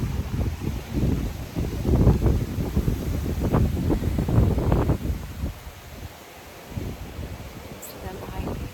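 Strong Hurricane Milton wind gusts roar through trees, surging and easing in loud rushing waves with heavy buffeting on the microphone, fading somewhat near the end.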